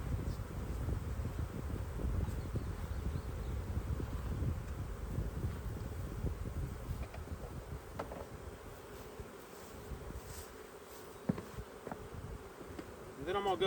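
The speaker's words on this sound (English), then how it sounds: "gonna go ahead and add those bees to that box there." Honey bees swarm and buzz continuously around an open hive during a Demaree split on a farm, a dense insect drone with some wind noise and handling sounds near the end.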